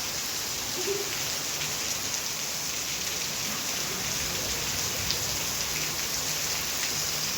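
A downpour at the start of the monsoon keeps up a constant hiss of heavy rain on surfaces, with fine drop patter for over seven seconds at an even, loud level and no thunder or voices.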